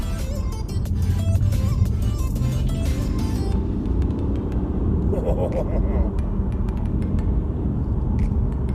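BMW Tourer family estate car accelerating hard in sport mode, a loud continuous engine and road rumble that builds steadily, with speech over it.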